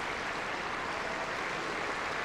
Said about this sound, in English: And more applause now for Matthew Best